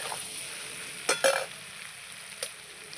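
Onion, potato and vegetable stalks fry in a pan, giving a soft, steady sizzle. A few sharp clicks and scrapes break through, and the whole sound stays faint and close.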